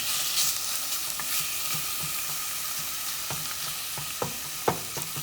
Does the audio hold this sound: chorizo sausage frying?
yes